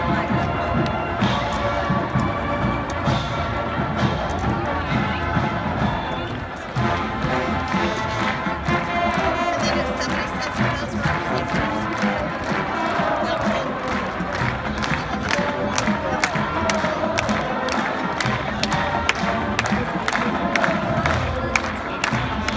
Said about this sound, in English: We'd like the audience to clap along and join us with the traditional yells of Fighting Jayhawk.